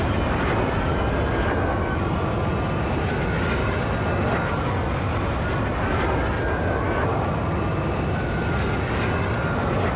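Engine whine and racing sounds from Star Wars Episode 1 Racer running on an emulated N64, a steady loud roar with shifting high-pitched tones that continues throughout, with no talk.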